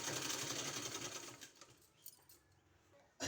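Sewing machine stitching palazzo pant fabric, a rapid close mechanical chatter that runs loud for about a second and a half, then slows to scattered clicks and handling noises before a short final burst.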